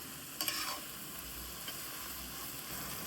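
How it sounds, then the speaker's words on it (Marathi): Shimla mirchi capsicum sautés in a pan with a soft, steady, close-up sizzle. A few light scraping stirs are heard, and no one speaks. "शिमला मिरच्या ज्या आहेत त्या थोड्याशा गडद झाल्या, व्यवस्थित परतून घेतली."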